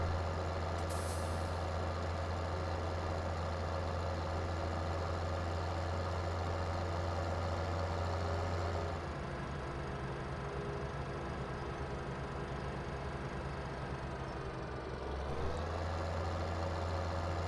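Tractor engine labouring steadily in Farming Simulator 17, a low continuous drone with a hiss near the start and a shift in pitch midway, moderately quiet, no talk.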